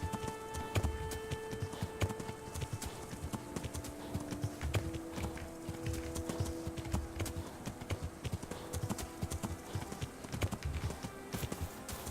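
A horse's hooves clip-clop steadily in the medieval game Kingdom Come: Deliverance, an even rhythm of close hoofbeats over low background sounds and faint tones, with no talking.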